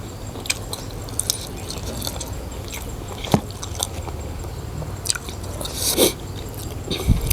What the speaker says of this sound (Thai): แต่มันแสบกินเข้าไปแล้วมันต้องกัดเลยนะครับ